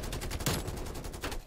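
Rapid gunfire in the video game Call of Duty: Cold War, with a burst of loud, dense shots in quick succession filling the whole clip and no talk.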